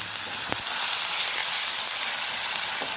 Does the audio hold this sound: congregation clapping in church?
no